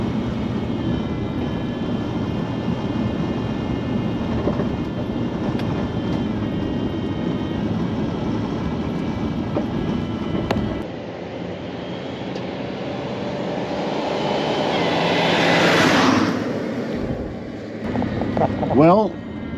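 A 1974 GMC Grand Sierra 3+3 dually pickup with a 454 big-block V8 idles steadily up close, its engine drone carrying a high whine. A person talks throughout, and a brief rise in sound comes near the end.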